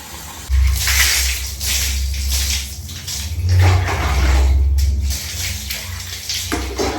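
Water runs and splashes as a cup is rinsed under a tap, a loud close gush that surges and eases over several seconds with some clinking handling.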